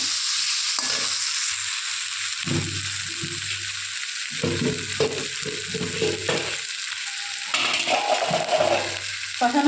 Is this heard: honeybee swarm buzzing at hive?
no